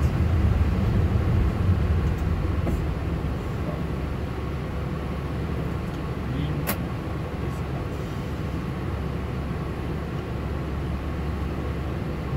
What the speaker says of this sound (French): you are clear to start engine number 2